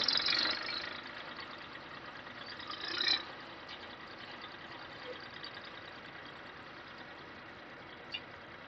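A tractor engine weeding a maize field gives a steady, low hum throughout, with a louder swell near the start and another around three seconds, then a brief knock later.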